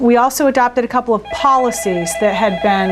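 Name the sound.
telephone ringing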